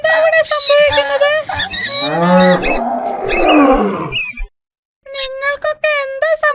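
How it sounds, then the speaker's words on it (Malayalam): A cartoon cow bellows with a tiger-like roar, a loud, long, wavering growl rising and falling, framed by animated character voices before and after. "പശു പശു പശു എന്താ കടുവയെ പോലെ കരയുന്നു?"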